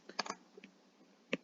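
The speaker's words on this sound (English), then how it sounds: "you can also type that in your calculator" Numbers keyed into a handheld calculator, a few quick light clicks in a short burst, then a pause and one more tap, close by and quiet.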